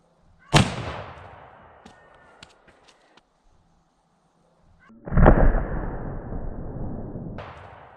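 A 52-110 Romano double rifle firing a 460-grain bullet into clear ballistic gel: one loud booming shot with a long decaying tail, small clicks, then a second heavy blast with sustained echo and a sharper burst near the end.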